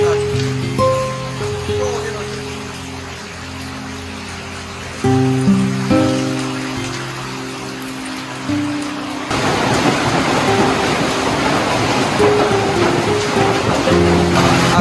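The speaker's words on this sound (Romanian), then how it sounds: "Să plouă atât de mult timp cu bucăți așa de gheață." Heavy rain mixed with falling chunks of ice during a strong storm in Târgu Neamț. Dense, steady broadband rain noise swells to a roar in the second half, with a person talking over the first part.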